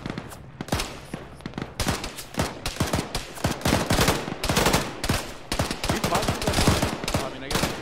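Rapid gunfire in a military shooter game, bursts of sharp shots and automatic fire at varying distances, growing denser and louder toward the end, with no voices over it.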